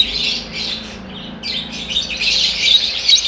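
Pet love birds and pigeons in a Pakistani bird shop chirp and tweet constantly, bright overlapping calls close by with occasional harsher squawks and no talking.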